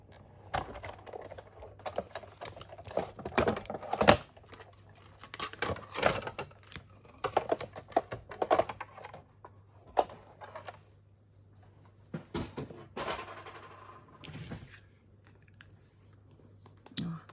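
An embossing folder with a daisy design is cranked through a die-cutting machine for journaling cards, giving irregular clicks and ratcheting taps close by over a low steady hum.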